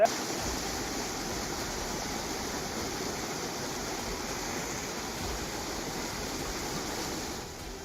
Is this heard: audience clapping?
no